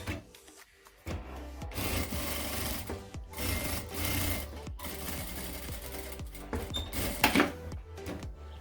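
A sewing machine stitches along the open edge of a fabric wallet, running in steady whirring bursts with brief stops and restarts, close and loud with no talking.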